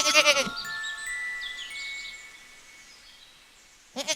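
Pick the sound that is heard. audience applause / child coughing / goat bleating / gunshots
goat bleating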